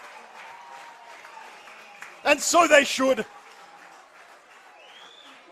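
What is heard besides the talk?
football crowd cheering after a goal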